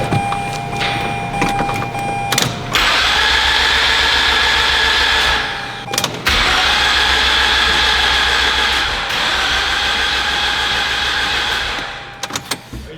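A Mazda 13B rotary engine cranks and catches in short bursts, raspy roaring spells broken by brief pauses and restarts, loud and close, with small clicks and handling noises between attempts.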